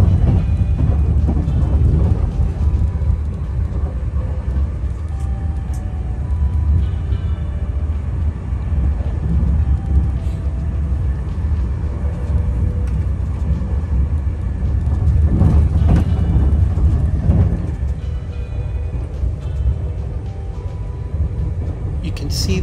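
Avanti West Coast Pendolino train speeding through Crewe in Cheshire, heard from on board as a loud, continuous low roar and rumble with steady rattling that swells slightly midway and holds throughout.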